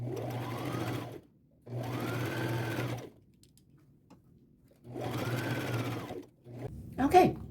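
A domestic sewing machine runs a quarter-inch seam around shirt fabric for a reversible jacket, in three steady whirring bursts of about a second and a half each, separated by quiet pauses, ending with a short clatter.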